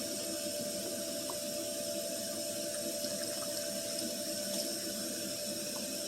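Hot water pours steadily into a washing machine, producing a continuous, even rushing and hissing hum with no one speaking.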